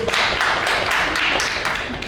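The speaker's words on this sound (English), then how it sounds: "Let's clap for this." Audience applause at a self-love workshop, a dense steady wash of many hands clapping together for about two seconds, fairly loud and close, with no voices over it.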